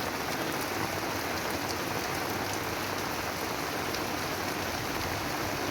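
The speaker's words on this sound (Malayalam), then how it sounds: "അവിടുന്ന് ഇങ്ങോട്ട് നല്ല ഫോഴ്സിൽ തന്നെയാണ് വെള്ളം ഒഴുകി വരുന്നത്" Floodwater from the overflowing Madhuvahini river rushes forcefully toward a temple, forming a dense, steady broadband wash of flowing water with no pauses and no voices.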